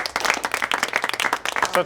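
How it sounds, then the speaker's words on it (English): A small group claps briskly and unevenly, individual hand claps audible, while people talk over the clapping. "really just give yourselves a round of applause"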